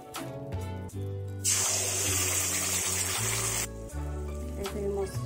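Cashew water is poured into a pan of cooking dahi aloo dum masala, a steady gushing splash lasting a couple of seconds over background music.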